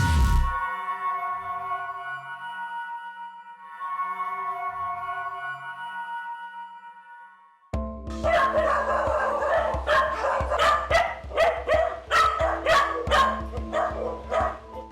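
A quiet tonal passage gives way to a loud chorus of many dogs barking at once, overlapping yips and woofs close by.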